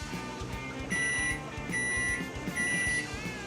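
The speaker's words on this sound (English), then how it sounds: "Alright, so there goes our timer." A kitchen timer beeps in repeated short electronic bursts while chocolate M&M cookies bake in the oven, the tones sounding a few times clearly and evenly with no voices.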